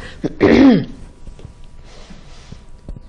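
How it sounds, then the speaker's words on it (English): A single harsh cough, close and loud, followed by quieter room noise and a few faint clicks. "I am destined to cough."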